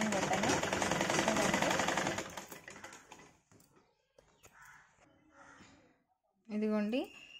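A sewing machine stitches a daily-wear blouse, buzzing loudly and fast for about two seconds before stopping; quiet handling noises and a brief voice follow.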